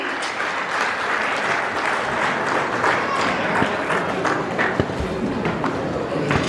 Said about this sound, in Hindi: जोरदार तालियां लगातार आप सभी बजाते रहें।